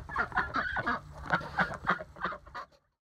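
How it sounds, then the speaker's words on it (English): Geese, ducks and chickens in a backyard coop kept with a rooster, eighteen hens and four ducks, give a rapid run of honks and squawks close by for almost three seconds before it goes quiet. "This is my chicken coop. We have the rooster upstairs, and 18 chickens and 4 ducks."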